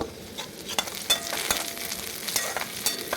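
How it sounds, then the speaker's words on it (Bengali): Spatula stirring a flattened rice pulao mixture in a frying pan after adding lentils and green chilies: soft scrapes and light clicks repeat irregularly over a steady sizzle. "এটাকে মিক্স করে নেবো কলাইটা দিয়ে দেব"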